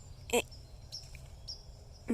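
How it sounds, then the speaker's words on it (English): A bird calling in woods where wild oyster mushrooms are being gathered, giving a few short, sharp chirps spaced apart over a quiet background. "There's a bird."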